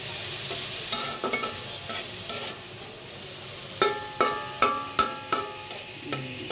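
Two chopped tomatoes frying in a pan with chicken pieces, a soft sizzle broken by a run of sharp, rhythmic spatula knocks and scrapes against the pan, close and without speech.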